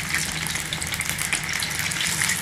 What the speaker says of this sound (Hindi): बाटी को हम सरसों के तेल में ही छानेंगे।